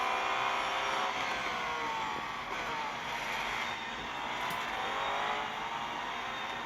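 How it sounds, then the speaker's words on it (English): GT4 race cars in a motorsport video game, a dense steady engine roar with layered revving tones held at constant loudness throughout, no voices. "Some GT4s we're racing against"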